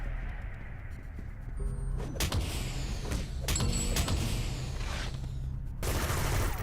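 Machine gunner firing in City of Heroes, a dense run of gunfire bursts with sharp cracks and rattling volleys, loud against a steady low game background.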